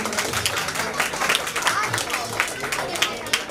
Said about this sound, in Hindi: आप लोग जोरदार तालियां बजा दीजिए।